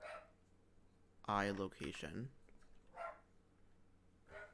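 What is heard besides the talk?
dogs barking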